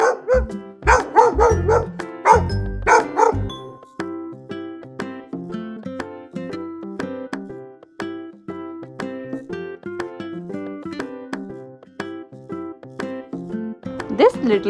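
A farm dog barking in an upbeat children's setting, with several barks early on over lively background music that continues steadily throughout.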